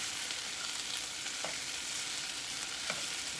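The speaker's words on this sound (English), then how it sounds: "Warm those peas up." Canned peas warm in a pot with a steady, close sizzle and faint stirring clinks, a continuous bright hiss with no voices.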